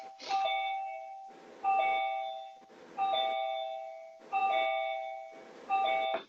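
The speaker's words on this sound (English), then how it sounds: "Oh, there goes the bell." A repeating electronic school bell or door chime sounds at a basketball interview: five bright, tonal chime bursts about every 1.4 seconds, each fading out before the next, fairly loud and heard alone without talk.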